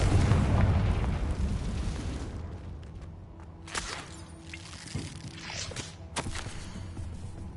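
A Confringo fire spell detonates in Hogwarts Legacy with a loud, booming blast that rumbles and slowly decays, followed by scattered crackles and sharp impact snaps.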